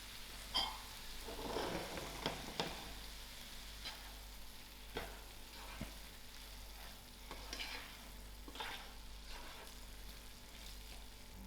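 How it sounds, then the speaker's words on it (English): Lamb mince filling with cheddar cheese being stirred for stuffed peppers, a steady scraping and squelching with soft clicks of the spoon against the bowl, close and fairly quiet, no voices. "I'll give this a good mix."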